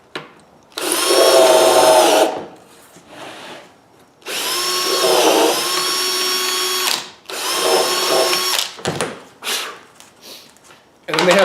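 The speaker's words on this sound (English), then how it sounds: "drill one hole just to get me started" A power drill boring a hole while a MilesCraft Cabinet Mate jig sits on a board, three loud close bursts of whining motor and bit cutting, separated by short pauses.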